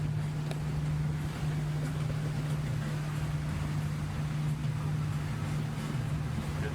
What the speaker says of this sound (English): Engines are purring.